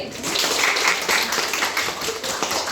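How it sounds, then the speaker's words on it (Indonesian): Children in a classroom clap for a classmate named Dwi: dense, fairly loud group clapping close by, steady for a few seconds, with possible faint voices mixed in. "Beri tepuk tangan dulu untuk Dwi."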